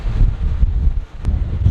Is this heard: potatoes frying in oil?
no